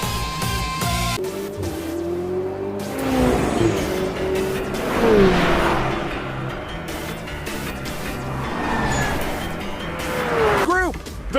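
Two racing cars tear along at speed in an Initial D street race, engines droning and sweeping in pitch as they pass, with a sharp squeal near the end, all under a continuous layer of speech and music.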